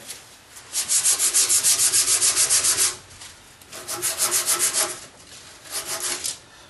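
Sandpaper rubs by hand across the back of a carved wooden spoon in a rapid series of close, rasping strokes: one long even run, then two shorter bursts.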